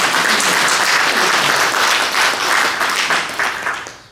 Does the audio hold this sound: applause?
yes